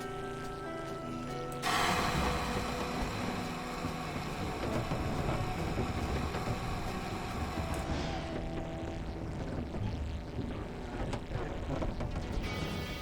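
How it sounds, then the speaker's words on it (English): A damaged, sputtering plane engine in a flying video game roars as a dense, noisy drone that swells sharply and holds loud and steady, alone without talk. "I just hear the plane making slightly concerning noises."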